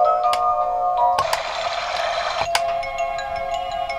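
An Ingenuity compact portable baby swing plays a ringtone-like electronic melody of bright sustained tones that shift pitch in steps, with small clicks along the way, heard clearly and alone.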